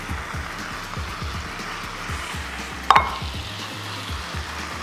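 Spinach and scallion tops hit a hot pan with a broad, steady sizzle that holds throughout, broken by one sharp clatter near the middle.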